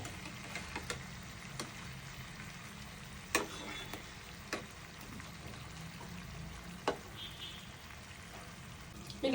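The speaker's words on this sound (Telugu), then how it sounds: "ఇలా అన్నీ తిరిగేసుకొని మంచిగా ఫ్రై చేసుకోవాలి." Korramatta fish pieces fry in a pan, a faint, steady sizzle broken by sparse clicks and taps as the pieces are turned.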